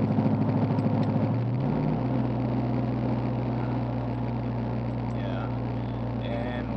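A 2008 Nissan Titan with an RE5R05A automatic drones steadily while driving, then its engine note jumps to a higher, sustained pitch as the throttle-held downshift from fourth to third takes hold.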